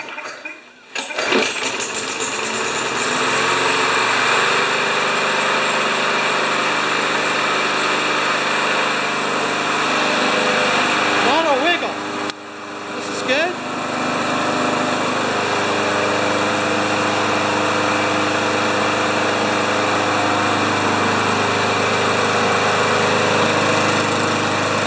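An old oil-covered Yard Machines lawn mower engine runs close and loud, starting with sputters before settling into a steady idle, with a brief dip near the middle before it picks back up.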